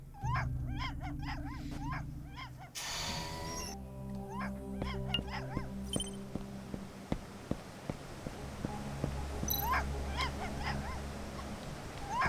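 Whimpering, yelping cries of a stray mutt in the video game Tales of the Neon Sea, high repeated yips over steady low game music, with a brief burst of noise partway through and soft clicks later.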